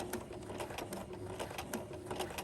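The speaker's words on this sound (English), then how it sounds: "So we're going to keep sewing forward." A sewing machine stitching a zipper pouch, running in a fast steady mechanical whir with a regular needle tick, continuous and close.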